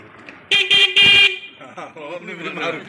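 A bicycle horn honks in three short loud bursts, followed by a person talking.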